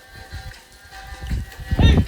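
Bleating goats from a herd, a few calls rising over rustling and shuffling, the loudest bleat near the end and fairly close.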